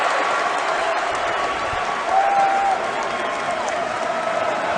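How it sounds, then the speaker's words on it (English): A basketball crowd at a college game rises to its feet, loud sustained cheering and applause filling the arena evenly, with faint whistles and shouts over the roar. "And now the crowd rising to its feet again, and it's loud."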